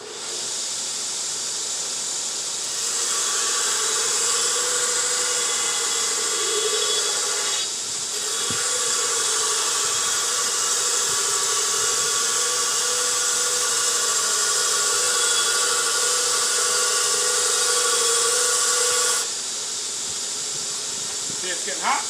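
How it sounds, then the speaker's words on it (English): Power grinding of a diamond profile onto a steel sword blade, a loud continuous hissing whine that holds steady for nearly twenty seconds with slight pitch shifts as pressure changes. "I'm going to do a quick grind"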